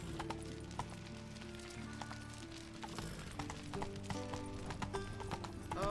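Horse hooves clip-clop in a steady galloping rhythm in The Witcher 3, quick repeated strikes running throughout over a low game ambience.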